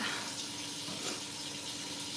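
Tap water runs steadily into a cooking pot in a home kitchen, a continuous close hiss and splash with no talking.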